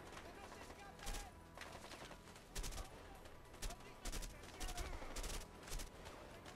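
Rifle fire in the video game A Way Out: repeated bursts of gunshots come in clusters over continuous game noise, loud and close, with a voice talking at times.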